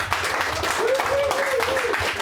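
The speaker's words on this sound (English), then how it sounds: "give him a big round of applause" An audience at a breakfast club gathering claps to welcome Tulsa County Sheriff Vic Regalado, a dense, steady wash of applause with a voice speaking over it.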